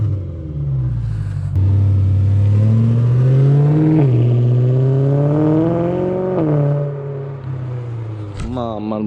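A BMW M3 fitted with twin exhaust pipes in place of the silencer revs up, its loud deep engine note rising and falling through several throttle blips, with people talking over it.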